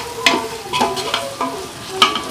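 Ginger garlic paste fries in a pan, sizzling steadily while a spoon scrapes and stirs it in several close, crisp strokes.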